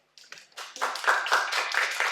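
An audience breaks into applause, starting with a few scattered claps and quickly swelling into steady, moderately loud clapping from a small group.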